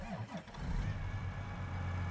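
A John Deere 9R tractor from a 2015 farming game mod: the starter whirs briefly and the engine catches, settling into a low, steady diesel idle, moderately loud and close.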